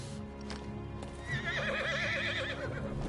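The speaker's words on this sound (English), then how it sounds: "See, that's Slipnir, the eight-legged horse" Sleipnir, the eight-legged horse in the video game Final Fantasy 16, lets out a loud wavering whinny midway, after a few hoof clops over a low rumbling background.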